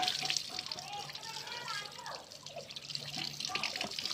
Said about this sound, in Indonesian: Tuh belum digosok kan, langsung disiram aja, langsung bersih kayak baru.